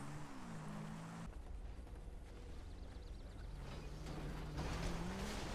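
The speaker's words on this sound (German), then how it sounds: "Mein Auto läuft" A video game car engine revs and drones at varying pitch, with tire squeal and shifting speed, a steady racing-style engine sound with no speech.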